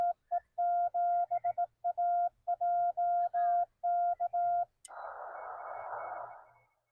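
Morse code CW tones on an amateur radio during a Parks on the Air activation, crisp beeps of dots and dashes in quick irregular rhythm, followed by a short burst of hissing static.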